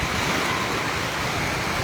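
Sea waves on the beach at Binmaley, Pangasinan, heard as a loud, continuous rushing surf noise with wind, filling the whole short stretch with no voices.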